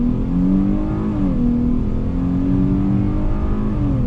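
A 2020 Dodge Challenger GT 50th Anniversary Edition accelerates hard under full throttle, its engine note climbing steadily in pitch with short dips at each gear change. The roar stays loud and close throughout.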